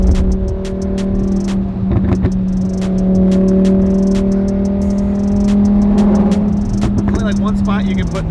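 A Lamborghini exhaust drones steadily and loudly while driving, holding a sustained engine tone that swells slightly mid-pass, with a few faint clicks over it.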